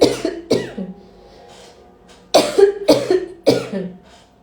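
Five sharp coughs, loud and close: two quick ones, a pause, then three more in a fairly even rhythm.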